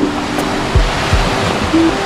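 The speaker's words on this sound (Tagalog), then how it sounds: "pakinggan nyo yung alon." Ocean waves wash onto the beach at Princess Cay, a soft steady surf with a few gentle swells breaking nearby, alone with no talk.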